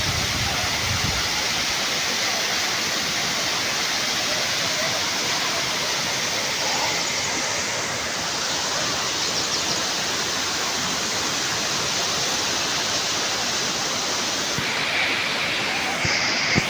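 A steady, dense roar of a waterfall pouring down, constant and loud throughout with no breaks.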